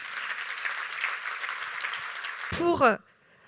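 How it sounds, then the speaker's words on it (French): Conference audience applauding the panelists of a round table on cooperatives, a dense clapping that ends abruptly near the close with a brief burst of talk. "Je pense qu'on peut les applaudir bien fort"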